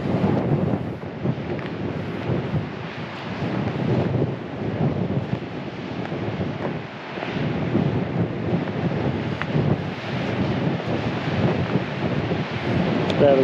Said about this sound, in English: I've taken the hat off because it's a bit windy.